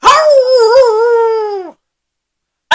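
A human voice imitates a wild dog howling at the moon: one long, loud, wavering howl that rises slightly and then drops away, followed by silence and a brief sound at the very end.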